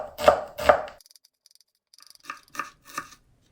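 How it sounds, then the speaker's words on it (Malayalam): A knife finely chops onions for onion pakora, a few quick close knocks on a board with a pause between bursts. "നമ്മുടെ ഉള്ളി നല്ല തിന്നായിട്ട് അരിയണം. എത്ര തിന്നാക്കാൻ പറ്റുമോ അത്രയും തിന്നായിട്ട് അരിയണം."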